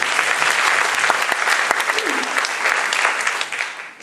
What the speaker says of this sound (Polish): Wielkie brawa dla pana Artura.